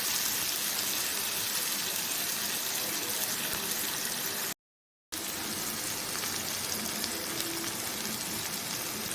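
Tempering roasting in a pan on a high gas flame, a steady dense sizzle like rain, broken by one brief silent gap, with faint talk in the background.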